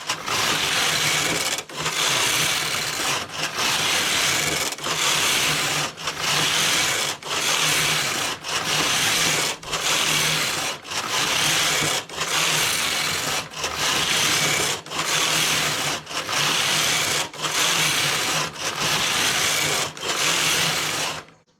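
A knitting machine working rows of a child's yarn skirt: its carriage makes a loud, steady rasping sweep back and forth, about fifteen even passes separated by brief pauses, with no talking.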